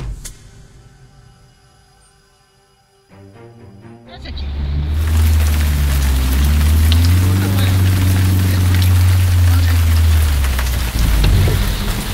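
Steady heavy rain pours down on a road in Libreville, Gabon, after a quieter start, a dense hiss with a low rumble underneath, continuous and close.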